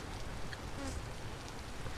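Dense, steady buzzing of many bees swarms around a woven reed skep hive during a honey harvest, a continuous close hum with individual insects passing by.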